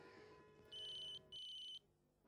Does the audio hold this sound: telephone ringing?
yes